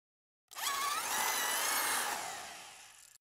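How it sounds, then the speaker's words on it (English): A power drill whines loudly and steadily for about three seconds, its pitch shifting slightly as a hole saw bites into a plastic water tank. "Start by drilling a hole in the tank."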